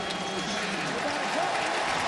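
Stadium crowd at a Raiders vs 49ers NFL game in Oakland, roaring and cheering after a defensive stop; a dense, steady wash of loud crowd noise with some voices mixed in.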